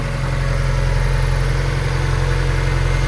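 A 1999–2005 Mazda Miata NB, bought abandoned and repaired, holds a steady, loud engine note near the microphone for about three seconds, rumbling evenly with no voices over it.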